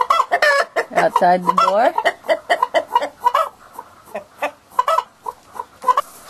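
A hen clucking near a rooster, her calls coming in quick repeated bursts with one longer drawn-out cackle, close and clear, while a person says a few words.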